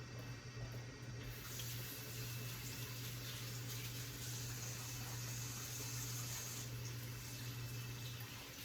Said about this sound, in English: I'm going to wash my hands up